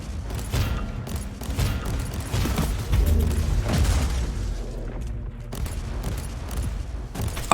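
Explosions and bursts of gunfire boom through a battle in Warhammer 40,000: Inquisitor - Prophecy, loud and dense with mechanical clanks, peaking midway before a brief lull and a renewed clatter.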